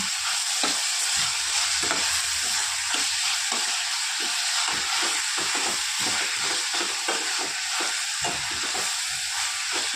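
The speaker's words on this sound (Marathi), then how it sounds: "पाच मिनटं परतून घेणार आहोत आपण" Chopped tomato and onion with salt sauté in a hot pan for a shev tomato curry, a loud continuous sizzle with repeated rhythmic scrapes of a spatula stirring throughout.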